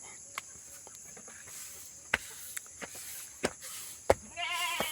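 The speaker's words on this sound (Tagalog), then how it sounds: "dalawa pala anak yung ano kanding" A goat bleats faintly at a distance amid quiet outdoor ambience, with a few sharp clicks and knocks scattered throughout.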